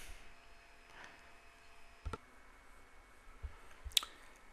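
A few sparse computer mouse clicks on a plagiarism checker website, faint and isolated against quiet background hiss, with one sharper click near the end.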